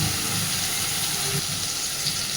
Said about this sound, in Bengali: দিয়ে দিচ্ছি মিক্সির বাটিটা ধুয়ে সামান্য একটু জল।